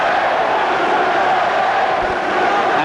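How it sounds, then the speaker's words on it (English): Crowd at a 1987 Pan American Games welterweight boxing final, a dense continuous roar filling the arena, loud and steady throughout with no clear individual voices. "The crowd coming alive now."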